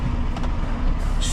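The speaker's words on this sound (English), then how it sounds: "Take handbrake off." An air handbrake is released on a lorry at a loading bay, giving a loud, steady hiss over engine rumble, with a sharper burst of air near the end.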